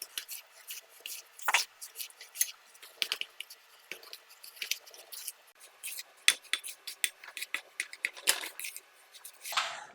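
A healthy, gluten-free, lactose-free dessert mixture is stirred in a bowl, making faint, irregular scraping, clinking and squishy taps of a utensil, quiet and close.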